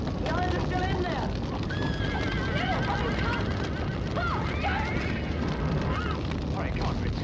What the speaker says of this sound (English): I'm gonna help Larry with those horses.